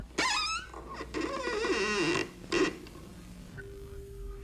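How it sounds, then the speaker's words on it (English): A parlor door in a house squeaking and creaking, several drawn-out rising and falling squeals close by, with a short pause and a final groan fading into quiet. "squeak the parlor door"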